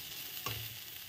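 Fenugreek greens with sesame seeds fry quietly in a pan, a faint steady sizzle with one brief stirring scrape in the middle and no speech.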